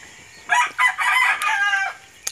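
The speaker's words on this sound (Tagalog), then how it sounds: "Ayan, mga manok-manok na nagkalat." A rooster crows loudly and close by, one long drawn-out call with a clucking chicken briefly heard near the start.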